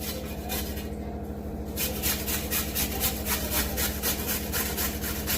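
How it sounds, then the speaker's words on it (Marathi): Raw potato scraped rapidly over a kitchen grater, a steady rhythmic rasping of quick strokes at close range after a short pause. "याच्यात आता आपण कच्चाच बटाटा किसून घालायचा आहे."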